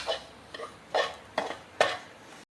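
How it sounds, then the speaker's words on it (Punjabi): Semolina is stirred in desi ghee in a pan for barfi, four or five distinct scraping strokes of a spoon against metal, close and fairly quiet, with a faint sizzle between strokes. "ਆਪਾਂ ਜਿਹਨੂੰ ਲਗਾਤਾਰ ਹਲਾਉਂਦੇ ਹੋਏ ਚੰਗੀ ਤਰ੍ਹਾਂ ਪਕਾ ਲਾਂਗੇ"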